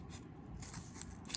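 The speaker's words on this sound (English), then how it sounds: "Now, I cut in half and I half it again." Scissors cutting cardboard in half, a quiet close crunching snip with a couple of sharper clicks near the end, heard alone without speech.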